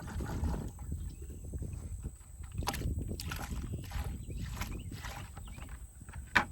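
Water sloshes and splashes as kaolin clay residue is rinsed out of a container, with uneven scrapes, knocks and gurgling bursts continuing close up for several seconds.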